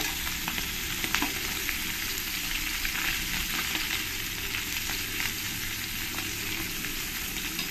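Puti and mourala fish fry in oil with a loud continuous sizzle up close, sharp intermittent pops and spits, and occasional stirring scrapes; nobody speaks.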